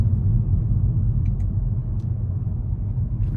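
A 2019 Nissan Altima SR cruises in sport mode with paddle shifting, its engine and road noise forming a steady low rumble inside the cabin, with faint ticks above it.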